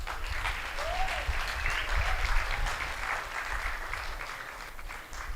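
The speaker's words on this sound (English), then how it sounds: "let's give a proper round of applause to all these women" An audience at Pwani Innovation Week 2022 gives a warm round of applause for a group of women, steady crowd clapping at moderate level with a brief whistle-like cheer and faint voices underneath.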